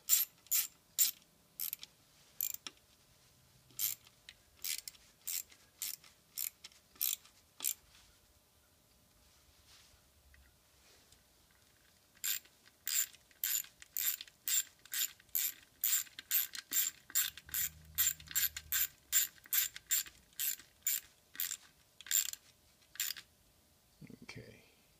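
A ratchet tightens Torx-head bolts in a crisscross pattern. Crisp, close clicking comes in quick bursts, then a pause with faint low knocks, then a longer run of rapid clicks.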